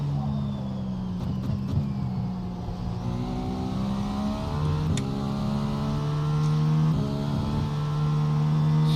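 GTP-class race car engine at full throttle on track in iRacing, loud and continuous with rising and falling harmonic pitch through gear shifts, no talking.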